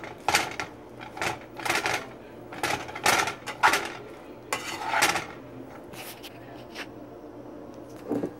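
Turmeric rice being stirred in a pan, with a spoon or spatula scraping and clinking against the metal in irregular bursts, close and fairly quiet, with no talking.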